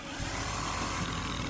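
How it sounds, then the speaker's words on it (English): Jigsaw cutting a notch in a wood deck board, heard as a steady, loud, continuous buzzing saw drone with a rough grinding texture throughout. "Then you take your jigsaw,"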